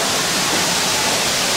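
Heavy monsoon rain pours down in Southeast Asia beside a small waterfall, a dense, steady roar of falling water filling the whole clip, loud and unbroken with no talk.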